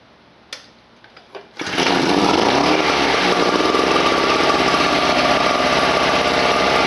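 A Tailgator portable gasoline generator engine is pulled over with a few short sputters, then catches and runs at a steady, loud, continuous drone close by.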